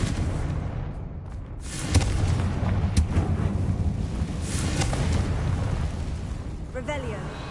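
A blasting fire spell in the Hogwarts Legacy video game bursts out in low rumbling booms amid continuous dense game noise, loud and broadband, with several heavy thumps rolling through the scene.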